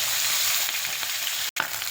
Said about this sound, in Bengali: এখানে ভাজা হচ্ছে মাছগুলো।